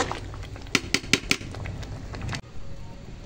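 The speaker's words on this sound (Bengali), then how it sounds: "এই দেখো খিচুড়ির হাঁড়ি নামিয়ে নিয়েছি।" A khichuri cooking pot is handled as it comes off the stove, with a few sharp metallic clanks in quick succession over a low background hiss, then a sudden drop to quiet.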